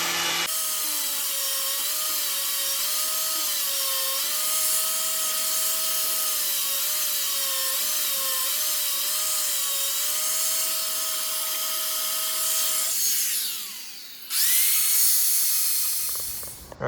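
An angle grinder works steel while parts of a 1977 Honda FL250 Odyssey are fitted up. A steady, high whine holds for many seconds, cuts out briefly, then spins up again.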